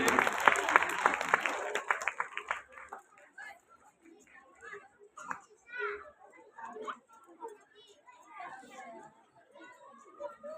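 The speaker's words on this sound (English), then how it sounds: "All of you please clap for them." Children and adults at a school award ceremony clap loudly in a dense burst of applause that fades after a few seconds into scattered chatter and children's voices.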